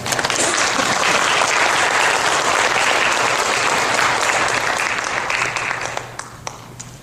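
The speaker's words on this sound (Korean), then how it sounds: "우리 목사님 나오셔서 말씀 전하실 때 우리 박수로 환영하도록 하겠습니다" A church congregation applauds to welcome a pastor before a sermon, with dense, even clapping that fills the room and then fades out near the end.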